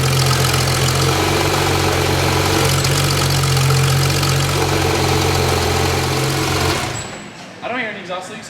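Porsche 992 GT3 with a new exhaust idling on a cold start, a loud, steady, deep drone held at high idle close by, then cut off abruptly and followed by a voice.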